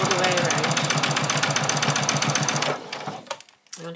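A sewing machine stitches around the edge of a fabric bag in a rapid, steady, close mechanical chatter, then slows and stops near the end, followed by a brief bit of talk.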